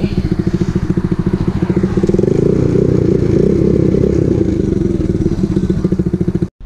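A pocket bike runs after a top end rebuild, its small engine loud and close with a rapid clattering idle that revs up and down before cutting out abruptly at the end.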